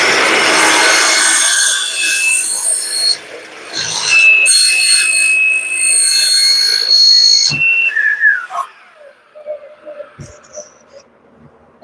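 A miter saw cuts pre-finished panels for a custom bedroom set, giving loud, sustained high-pitched whining and screeching bursts that end with the blade spinning down, followed by quieter handling knocks.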